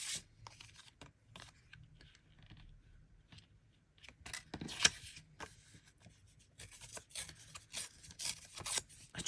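Sheets of printed paper are ripped by hand for autumn craft-journal ephemera, giving several short, dry tearing and rustling bursts at close range. A louder rip comes near the middle, with more scraping near the end against a quiet room.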